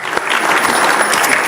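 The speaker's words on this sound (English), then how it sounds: "Go ahead, if you want to applaud, you can." A breakfast audience gathered with the Massachusetts governor breaks into brief, brisk applause for the event's sponsor, a short burst of many hands clapping at close range.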